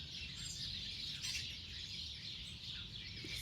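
Many birds chirping and calling outdoors, a dense steady chorus of bright tweets close by with no talk over it.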